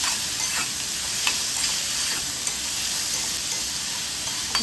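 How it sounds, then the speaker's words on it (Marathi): Capsicum and grated carrot being sautéed in a pan, giving a steady close sizzle with light scraping stir strokes at irregular intervals and no talking. "हे सर्व मिक्स करून घ्यायचं आहे आणि 2 मिनिटं आपल्याला परतून घ्यायचं आहे छान"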